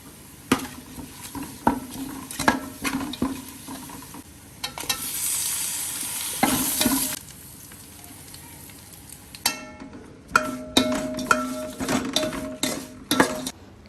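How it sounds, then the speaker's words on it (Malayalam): Whole spices, including two bay leaves, cinnamon and cardamom, go into hot oil with fried onions and sizzle loudly, with a continuous frying hiss broken by clinks and scrapes of a spoon against the pan, close and without talk. "സ്പൈസസ് നമ്മൾ നേരത്തെ എടുത്ത് വെച്ചിട്ടുണ്ടായിരുന്നു രണ്ട് ബേ ലീഫ് പട്ട ഏലക്ക ഇതൊക്കെയാണ് എടുത്തേക്കുന്നത് അപ്പൊ ഇത് അങ്ങോട്ട് ഇട്ട് കൊടുക്കാൻ വേണ്ടി പോണേ"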